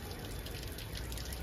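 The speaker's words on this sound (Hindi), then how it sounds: "इस लड़की को पेड़ में पानी दे रही है" Water poured onto a tree gives a continuous, close splashing and gushing that runs steadily through the whole moment with no voices.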